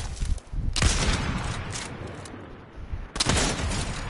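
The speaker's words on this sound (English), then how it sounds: "Where am I getting shot from here?" Gunfire bursts in Fortnite, two loud broadband volleys rattling out around the first and third seconds, with quieter shooting and game ambience between them.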